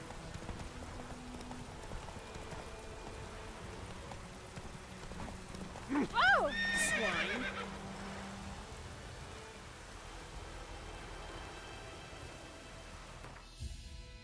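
Horse in The Witcher 3 video game, with rhythmic hoofbeats running under a soft rain-like ambience and a clear whinny rising in the middle, moderately loud and close.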